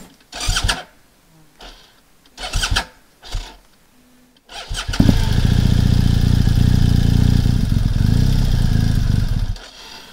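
An enduro motorcycle on a Bosnian trail ride starts up after a few short cranking attempts, then runs loud and steady at close range, its engine droning alone without any talk.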